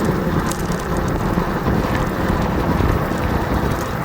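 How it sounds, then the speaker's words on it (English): Strong wind buffets the microphone in a constant loud rush and roar while riding an e-bike outdoors in Los Angeles, with no other sounds breaking through. "Very windy, going to be harder to ride. Wind right in our face much of the time."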